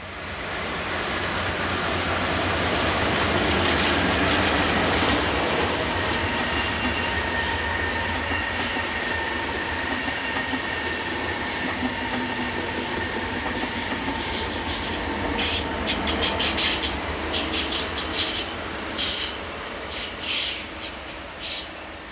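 A Class 420 electric multiple unit passes on the railway, a sustained loud roar of wheels and motors that builds and holds, with rattling and clicking toward the end as the carriages go by.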